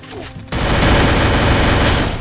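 Parafal rifle fire in a mobile shooter game breaks out suddenly after a half-second lull. It becomes a loud, dense, sustained volley of rapid shots that fills the rest of the moment.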